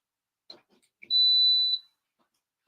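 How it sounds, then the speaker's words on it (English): A single high-pitched electronic beep under a second long as an HTV heat-transfer rod is plugged in, with faint clicks and handling noises before and after in a quiet room. "So what you're hearing now is me plugging up my HTV rod"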